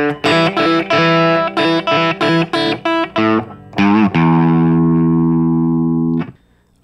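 Electric guitar playing the closing section of a song: a run of loud, distorted chord stabs in quick rhythm, then a single ringing chord sustained for about two seconds before cutting off, with no talking.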